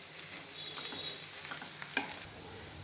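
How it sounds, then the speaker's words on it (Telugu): Egg noodles are stirred in a frying pan over a soft, continuous sizzle, with faint scraping strokes and one sharper knock near the end. "మొత్తం మిక్స్ చేసుకుందాము."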